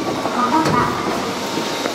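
Fukuoka City Subway Nanakuma Line train running, a steady rumble and rattle of the carriage with faint clicks, while a station announcement plays over it.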